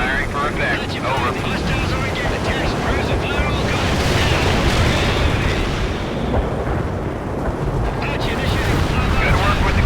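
Artillery firing for effect in the World in Conflict video game, a dense barrage of loud, continuous explosions and rumbling booms mixed with aircraft noise, sustained throughout.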